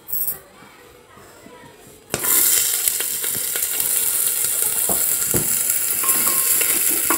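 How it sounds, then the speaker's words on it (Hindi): Onion drops into hot mustard oil in a pressure cooker for a cucumber curry. It makes a sudden, loud burst of sizzling that settles into steady, close frying, and faint background noise comes before it. "प्याज में थोड़ा सा भून लूंगी ताकि इसका जो कच्चापन होता है वो दूर हो जाए।"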